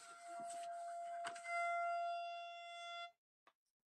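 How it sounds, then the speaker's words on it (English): An outdoor warning siren sounds during a weekly test for Severe Weather Awareness Week, a steady wailing tone heard from a distance that holds for about three seconds and then cuts off, followed by a brief click. "Yeah, that's the siren there."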